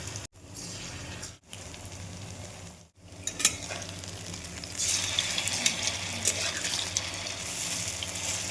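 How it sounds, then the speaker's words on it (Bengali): Eggplant fritters (bora) sizzle steadily in hot oil, the frying growing louder and denser partway through, with brief handling breaks early on. "এবার একটা একটা করে ভালো করে মেখে বড়াটা ভেজে নেব।"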